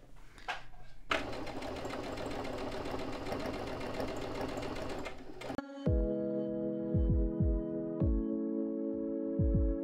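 A sewing machine runs steadily while stitching a seam on a tote bag at a 3 mm stitch length, a dense continuous whir for several seconds, then stops and leaves a lower tonal hum broken by a few short thumps.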